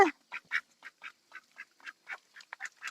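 Mani ducks, a breed that lays and hatches its own eggs, quack in a rapid series of short, close, clear calls with tiny gaps between them, with no voices over them.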